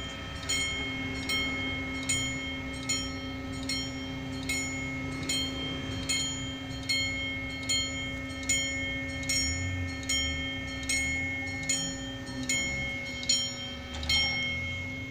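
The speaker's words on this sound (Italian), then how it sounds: "Che campanella squillante." Level crossing bell at via dei Mulini in Cefalù rings in a steady, evenly spaced metallic pattern, loud and near, over the low rumble of a passing train arriving from Palermo.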